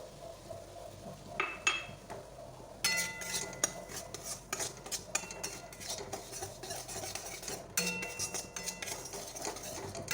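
Semolina stirred and fried in ghee in a pan, with a spoon scraping and clinking against the metal in irregular bursts, close and clear, with a faint sizzle underneath.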